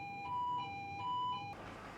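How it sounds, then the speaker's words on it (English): A ship's fire alarm sounds in repeated electronic tones, two pulsing beeps in quick succession before the signal cuts off into a hiss of background noise. "Sound the alarm promptly."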